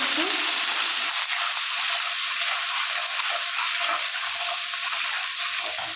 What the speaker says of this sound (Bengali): আদাটা ছেটকাবে তেলের মধ্যে ওই জন্য একটুখানি হলুদ আর এক চিমটি লবণ আদার ওপরে ফেলে দিয়েছি দিয়ে এটা নেড়ে ফেলে নেবো